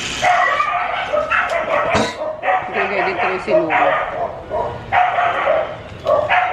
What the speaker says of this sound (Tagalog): Ang ingay ng aso sa kabila.